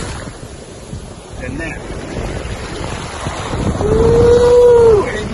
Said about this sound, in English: ain't nothing better than the damn ocean